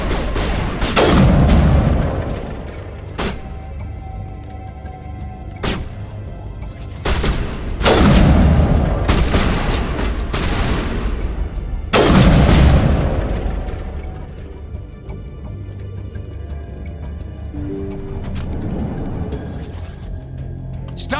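Shotgun blasts fired in the video game Mass Effect, a handful of loud booming shots spaced several seconds apart over a continuous game soundtrack, each with a sharp crack and a rumbling tail.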